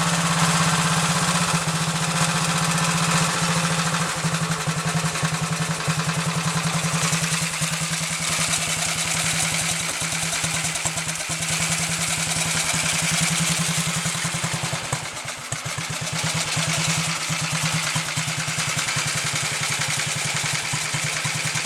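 A rebuilt 1929 AJS 500 motorcycle engine runs close by without a break, a loud, steady mechanical drone with constant clatter throughout.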